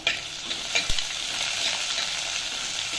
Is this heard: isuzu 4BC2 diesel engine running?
no